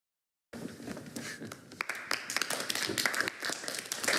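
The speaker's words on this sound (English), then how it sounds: "That got applause." An audience breaks into applause after a brief silence, starting sparse and quiet, then thickening into a dense run of claps that stays fairly soft and close.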